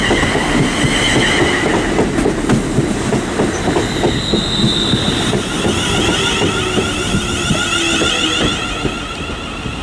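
A London Northwestern Railway train runs through Liverpool South Parkway on the West Coast Main Line, a loud, steady rumble with rhythmic wheel clatter and faint high squeal, fading slightly toward the end.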